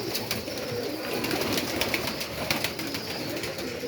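Pigeons in a loft coo continuously, a dense layered murmur of many birds close at hand with occasional faint wing flutters.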